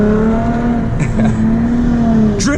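A Lexus IS350 engine roars and revs continuously at close range while drifting, with a brief high tire squeal near the end.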